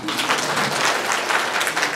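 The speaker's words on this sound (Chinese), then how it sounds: "我们先帮他鼓掌一下啊" Audience applause fills a forum on Taiwan's bid for UN membership, a dense, steady wash of many hands clapping at once, held at even loudness throughout with no pauses.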